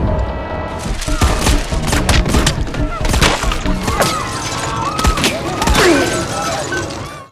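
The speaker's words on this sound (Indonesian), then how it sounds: "Suara tembakan itu pun sontak membuat Sei yang ada di ruangan Tessier keluar dan ikut andil dalam pertempuran." A loud, chaotic shootout in an action film about a hired killer and corrupt police, with rapid cracks of gunfire mixed with shattering and splintering impacts and brief whistling tones, continuous and close throughout.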